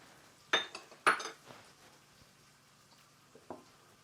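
A utensil clinks against a bowl twice in quick succession while lime juice, mayonnaise and marinade for tamarind shrimp are stirred. A softer clink follows a few seconds later over a quiet kitchen background.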